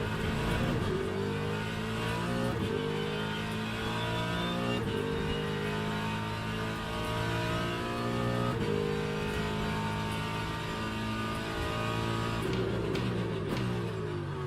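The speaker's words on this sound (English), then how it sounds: "Sounds really good on the downshifts too. This is a better sound than the Aston, in my opinion." A GT3 race car engine in Le Mans Ultimate revs continuously, its pitch climbing and dropping through downshifts, loud and up close throughout with no talking over it.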